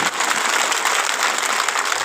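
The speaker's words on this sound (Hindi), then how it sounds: "जोर से ताली बजाओ, आप लोग धीरे धीरे नहीं बजाओ।" Audience at a saints' gathering in Mumbai claps loudly and steadily, a dense wash of applause with no talking over it.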